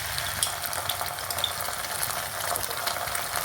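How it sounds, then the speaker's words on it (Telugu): Ginger garlic paste frying with browned onions in a pan for Andhra-style gongura prawns: a constant, dense crackling sizzle with scattered small pops and stirring, close and steady, with no one speaking. "ఒక టేబుల్ స్పూన్ అల్లం వెల్లుల్లి పేస్ట్ వేసుకోవాలండి."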